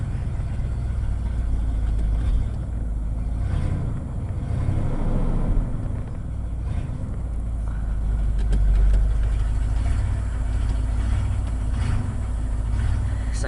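A 1980 Ford F100 pickup truck idles after a cold start on a chilly day, its engine a loud, steady low rumble with an uneven throb, running close and continuously with no talking.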